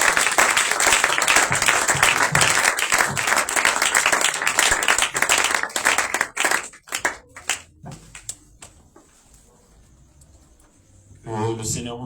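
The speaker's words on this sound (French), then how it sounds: "Sous vos applaudissements." A large church conference audience applauds loudly for about seven seconds, then the clapping thins into scattered claps and fades to near quiet before a voice comes in at the end.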